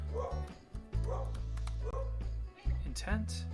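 A pet dog barks and yips excitedly at the front door of a home, several sharp barks in a row, heard slightly distant behind someone talking nearby.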